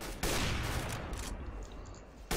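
An AWP sniper rifle fires in a CS:GO JailBreak match: one loud, close blast with a long rumbling tail that fades over about two seconds, then a second sharp shot right at the end.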